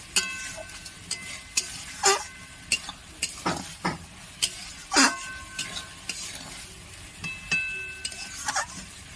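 Sattu mixture stir-fried in a pan, with the spatula scraping in repeated short, fairly close strokes over a soft background sizzle and no voices.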